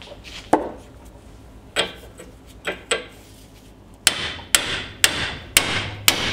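Sharp metallic hammer blows strike a tool, about eight hits spaced irregularly, with a faster, evenly paced run of strikes toward the end.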